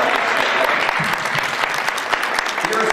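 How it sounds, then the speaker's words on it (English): A roomful of attendees at a state Democratic party committee meeting gives a round of applause, a loud continuous wash of clapping with faint murmurs of voices underneath. "we owe her a great round of applause for her sincere"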